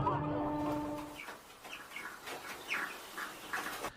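Hens making short clucking calls, several brief squawks scattered over a low steady background, moderately close, no speech; the birds are spent egg-laying hens during slaughter with carbon dioxide.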